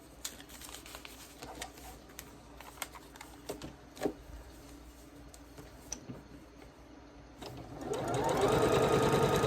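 A sewing machine stitches a Spring Flags quilt block pieced on thin foundation paper, running in short bursts of rapid needle ticks, then a louder sustained run toward the end.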